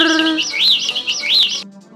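Cartoon bird chirps as it snatches a grain: a quick run of bright, looping tweets, loud and close, ending abruptly after about a second and a half.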